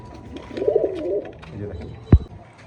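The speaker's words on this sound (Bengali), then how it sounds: "এখানে একটা কালো স্প্যানিশের একটা নরকবুতর আছে" A black Spanish male pigeon gives a soft, low rolling coo at close range, followed by a brief sharp knock.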